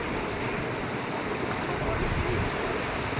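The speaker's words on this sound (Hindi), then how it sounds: "लहरें इसी तरह किनारे जाती हैं।" Ocean waves roll onto the shore at Mandarmani Beach, a constant, even wash of surf with no clear breaks, heard fairly quietly.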